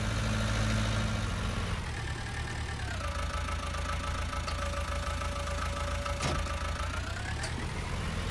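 A tractor engine idles steadily in Farming Simulator 19, a continuous low drone with a faint whine whose pitch shifts slightly partway through, heard alone without talk.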